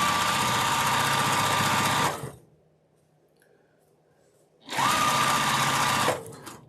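A sewing machine stitches a 1/4-inch fabric seam in two loud, fast, buzzing runs, separated by a couple of seconds of near silence.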